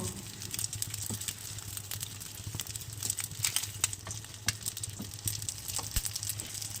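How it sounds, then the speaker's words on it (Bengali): A steady oil sizzle crackles in a frying pan as stuffed flatbreads fry in white oil, turned until golden, with scattered pops and spits over a constant low hum. "একটা ফ্রাই প্যানে একটু সাদা তেল দিয়ে রুটিগুলোকে একটু উল্টিয়ে পাল্টিয়ে লালচে করে ভেজে নেব"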